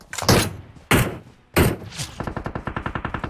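Gunfire in PUBG Mobile: three loud, heavy shots spaced apart, then a fast rattling burst of automatic fire, close and dominant, with no talking.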